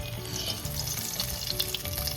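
Cumin seeds and two dried red chilies crackle and sizzle loudly in hot oil left from frying koi fish, a dense continuous spitting hiss with no pauses.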